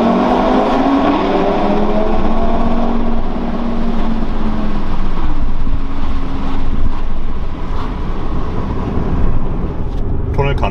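An Audi RS3 with a five-cylinder engine rumbles loudly through a tunnel, its rising and falling engine note over wind buffeting, with a person talking over it.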